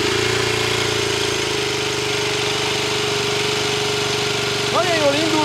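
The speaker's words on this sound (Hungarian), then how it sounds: "Nagyon jól indul, bajpuhán jár, hallani, hogy rendben van a gép" An Aprilia RX 125 motorcycle engine starts and runs steadily at idle, a continuous low rumble with a faint knocking texture, close by.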